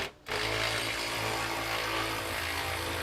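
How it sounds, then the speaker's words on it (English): An electric ratchet whirs continuously while loosening a bolt during a front suspension swap on a 1991 Camaro, a loud, close, steady motor drone that starts abruptly after a brief pause. "I'm gonna see if I can get at the next one with the electric ratchet"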